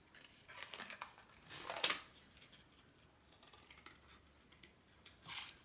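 Scissors snip through a piece of cardboard to cut out a heart shape, close and fairly quiet, with a few uneven crunching cuts and papery rustles between them.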